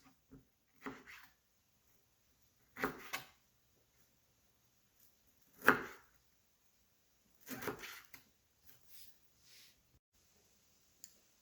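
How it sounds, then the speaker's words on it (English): A knife chopping broccoli florets into small pieces on a cutting board, a few sparse clusters of soft close taps and thuds separated by quiet gaps. "once you've separated the florets, again, just cut them into really small pieces"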